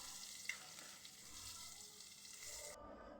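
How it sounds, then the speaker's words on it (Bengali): Green chilies and chopped onion frying lightly in a pan of oil, a steady close hiss of sizzling with a brief clink near the start, cutting off abruptly near the end. "তো এখন সব কিছু একসাথে করে আমি হালকা করে ভেজে নিব।"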